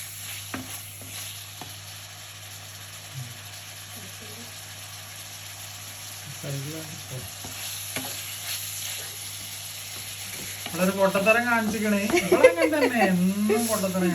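Chicken pieces fry in butter in a pan for a chicken and broccoli stir fry, giving a soft, steady sizzle with occasional stirring scrapes. Someone speaks over it near the end.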